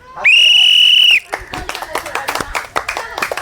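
A whistle at a children's steel-ball game gives one loud, steady blast lasting about a second. A quick run of clapping and crowd noise follows it, close by.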